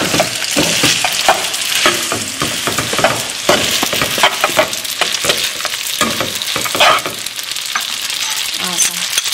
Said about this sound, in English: Stir it. Stir. Stir fast.